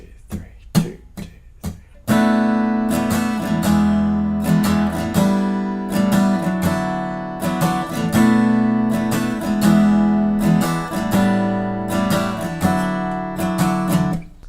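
Acoustic guitar strums the chorus chords of a song in a steady, rhythmic pattern with full, ringing chords throughout, preceded by a few short, sparse plucks; close and clear with no voices.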